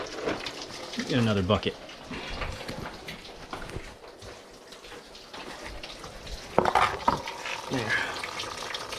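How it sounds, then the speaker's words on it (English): Coolant pouring out of a 2013 Chevy Captiva radiator, a steady splashing gush of liquid under a person's speech, with brief louder splatters near the end. "You're gonna hear it drain a lot faster now. Oh, it's draining everywhere now."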